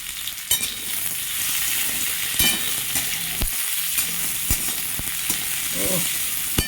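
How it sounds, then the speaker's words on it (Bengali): Spices, onion, garlic, dried chilli and black cumin sizzle steadily in hot oil for masoor dal, with occasional sharp scrapes and knocks of a spoon stirring the pan close by. "ভালো করে মশলাটা কষবো।"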